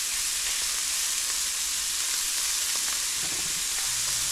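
Good-sized scallops frying in a pan, giving a steady, close, even sizzle and hiss that runs unbroken throughout, with faint crackles on top and no talking.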